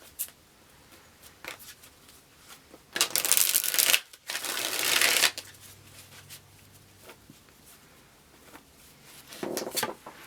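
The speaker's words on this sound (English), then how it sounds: "One more shuffle, guys." Tarot cards are shuffled in two loud riffling bursts, followed later by a shorter one, with soft handling rustles and near-silence in between.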